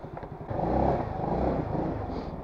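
A 150cc GY6 scooter engine with a newly fitted carburetor idles close by, a soft low chugging hum that swells slightly and stays steady.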